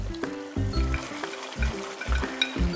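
Pork in soy sauce stir-fried with onion, green onion and chili pepper in a hot pan, sizzling steadily while repeated rhythmic scrapes and clanks of the spatula break through at close range.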